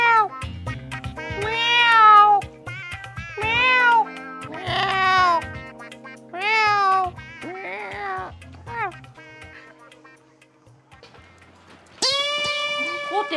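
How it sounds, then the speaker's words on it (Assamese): A cat meows loudly and close by, with about eight drawn-out, wavering cries spaced a second or two apart and a short gap before a final sharp cry. "ক'তে মেকুৰী কান্দি আছে"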